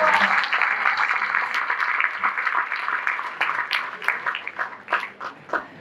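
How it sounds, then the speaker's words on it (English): Audience applause in a hall at Government Law College, Mumbai during a policy debate, a dense burst of clapping that starts loud and thins into scattered claps as it fades. "Please, a round of applause."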